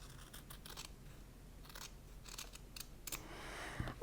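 Scissors trim a fabric seam allowance in a series of short, close snips and crisp cuts, with light handling noise and a louder clunk at the end.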